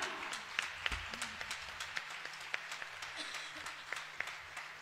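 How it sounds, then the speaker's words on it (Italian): Sparse, faint clapping from a small audience at a live concert presentation, with scattered individual claps spread across the few seconds rather than a full ovation. "Gli facciamo un forte applauso"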